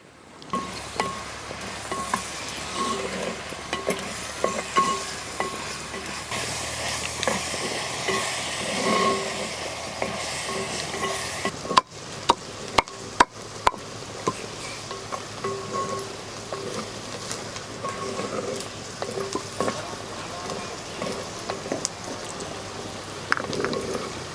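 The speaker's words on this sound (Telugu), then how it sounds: "నూనె అయితే కాగింది ఇప్పుడు ఇందులో ఉల్లిపాయ ముక్కలు వేసుకుంటున్నాను అలాగే చిన్నగా కట్ చేసుకున్న పచ్చిమిరకాయ ముక్కలు కూడా వేసుకుంటున్నాం" Onion pieces and chopped green chillies fry in hot oil with a continuous sizzle and crackle, broken by a few sharp clacks of utensils midway.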